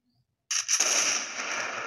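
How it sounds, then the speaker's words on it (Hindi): Gunfire from the Free Fire Clash Squad ranked video game breaks a short silence with a sudden loud burst. A dense, ringing blast follows and carries on, with no talking over it. "बाकी यार ये गोलियां कहाँ मार रहा है देख सकते हो आप"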